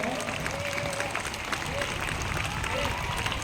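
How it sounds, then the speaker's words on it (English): Applause from a crowd at an annual school sports meet, a steady dense wash of clapping that stays loud and even throughout, with no speech over it. "Give big round of applause."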